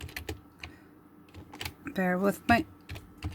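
Computer keyboard keys are typed in slow, uneven bursts of close clicks, and a person speaks briefly between the keystrokes.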